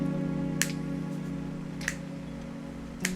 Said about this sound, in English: you gotta get the finger clapping, snap it going